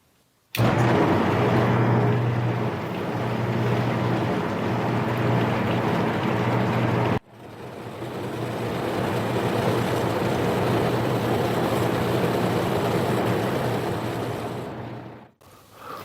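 A Harbor Freight mini lathe takes cuts on a carbon steel workpiece, producing a loud, steady machining drone in two long runs separated by a brief stop.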